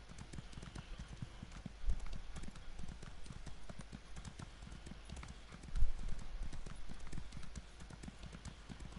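Hooves clip-clop in a steady galloping rhythm as a horse runs in Elder Scrolls Online, close and continuous over a low game backdrop, with a couple of heavier thuds along the way.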